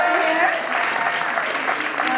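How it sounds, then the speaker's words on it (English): An audience at a live podcast event applauds, a dense, even wash of many hands clapping, heard at steady volume throughout the short stretch. "So let's just give a round of applause."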